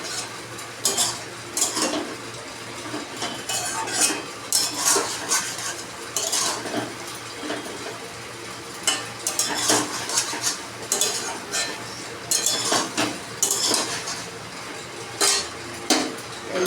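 A spoon stirring sukto, a Bengali vegetable dish made with milk, in a pan, repeated scraping and clinking strokes in irregular bursts over a soft sizzle, close and fairly loud.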